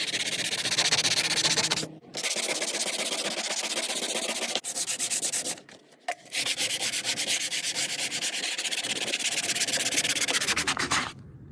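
Continuous abrasive sanding rubs a surface in long, steady strokes, pausing briefly a few times before resuming.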